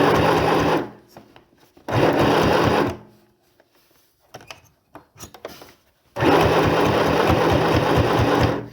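A sewing machine that has been acting up stitches a tote bag seam, running loud and close in three buzzing bursts: two short runs, then a longer steady one, with quieter handling sounds between them and no talking.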